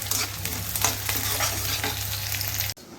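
Food frying and being stirred in a pan while making bati and dhokla, a steady close sizzle with scraping stirring strokes and a low hum beneath, cutting off abruptly near the end.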